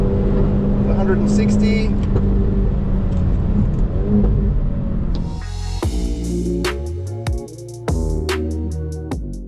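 A Hyundai i30 N at Winton Raceway revs hard to 7,000 RPM in third gear, its engine note climbing in rising sweeps through shifts under a speaking voice, loud and close inside the cabin.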